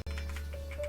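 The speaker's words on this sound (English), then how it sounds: "He also has keyboard sounds." Computer keyboard keys click in quick, light, irregular taps at close range during a Fallout: New Vegas speedrun, set over a steady low electronic hum.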